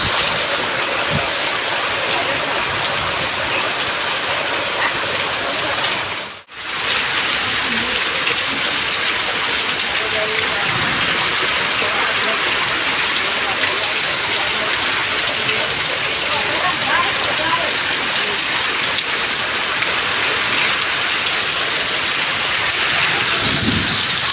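Heavy rain pours down steadily in a dense, loud hiss, unbroken for the whole stretch apart from one brief dropout.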